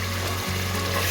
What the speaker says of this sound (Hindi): अब इनको हम हल्का सा सौते करेंगे